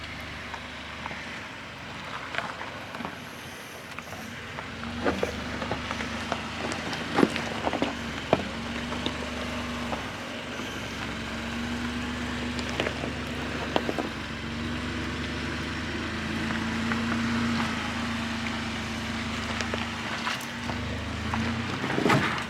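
A Chevrolet Colorado ZR2 truck climbs a rocky dirt hill. Its engine hums low and steady under repeated knocks and clunks as the tires crawl over stones, and the engine pulls harder toward the end.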